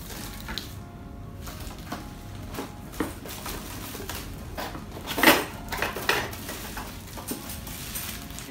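Stainless steel beaters from a Black & Decker hand mixer handled while unboxing, giving scattered light metallic clinks and rattles with one brighter clatter midway, close and moderately quiet.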